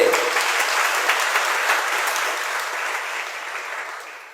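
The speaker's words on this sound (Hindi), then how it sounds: "ये बीच बीच में तो आप लोग ताली बजाते हैं ना" Dense, steady applause from a large audience during a morning Hindi sermon, sustained over the whole stretch and fading slightly toward the end, with no voice on top.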